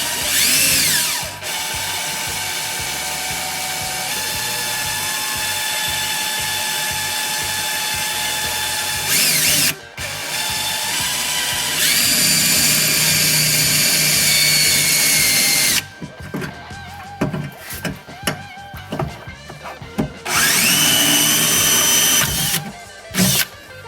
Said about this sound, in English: It's a starter hole so that it'll be easier to get this drill started.